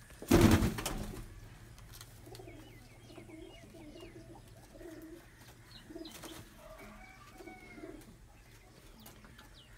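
Rampuri pigeons coo softly and repeatedly in low, rounded calls, with a loud burst of flapping wings near the start and faint chirps in the background.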